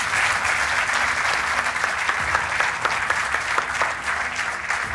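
A game show studio audience applauds in a steady, dense wash of clapping that fills all five seconds at a loud, even level, with no voices standing out.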